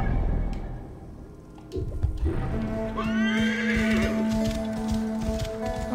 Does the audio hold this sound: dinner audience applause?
no